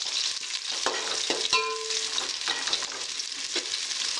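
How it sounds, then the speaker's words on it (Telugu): Long-sliced onions dropped into hot oil with red chillies for bagara rice, sizzling loudly and steadily while a spoon stirs and scrapes the pan a few times, close and without talk. "ఉల్లిపాయలు వేద్దాం. ఒక ఉల్లిపాయ కట్ చేసుకున్నా, ఇట్లా పొడవుగా సరిపోతుంది. ఒకసారి కలుపుదాం."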